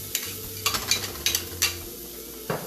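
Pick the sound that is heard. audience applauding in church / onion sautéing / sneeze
onion sautéing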